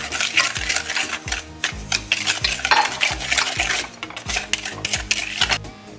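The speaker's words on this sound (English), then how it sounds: "I'm just gonna whisk this together a little bit." Flour and salt are whisked together in a bowl with quick, busy metallic scraping and rattling. The strokes are close and continuous for several seconds, and no one speaks.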